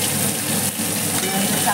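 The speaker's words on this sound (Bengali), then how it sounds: "এখানে হচ্ছে মাছ ভাজা" Fish frying in a pan during home cooking, a steady dense sizzle crackling continuously and close, without any talk.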